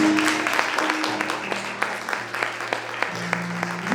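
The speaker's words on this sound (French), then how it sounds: "On acclame tout le monde, acclame ça." A church congregation claps steadily through a worship service, with sharp hand claps over a sustained organ or keyboard chord and faint voices in the background.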